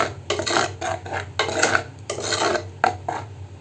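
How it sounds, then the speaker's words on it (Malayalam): A spoon stirs cucumber-tomato moru curry in a pot, scraping and rasping against the metal in repeated strokes of about half a second each, close and fairly loud with no talking. "ഇതൊന്ന് നന്നായിട്ട് തിളച്ച് വരുന്നത് വരെ നമുക്ക് ഒന്ന് ഇളക്കി കൊടുക്കാം"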